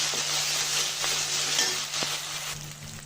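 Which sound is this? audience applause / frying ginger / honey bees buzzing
frying ginger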